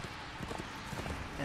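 In the video game Darksiders II, a horse's hooves clip-clop in a quick, even rhythm over a short stretch, close and fairly soft, set against a steady ambient backdrop.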